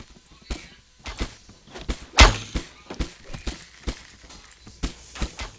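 Bow and arrow shots in Reign of Kings make a series of short, dull thunks at an irregular pace. One sharp, louder crack stands out in the middle of the run.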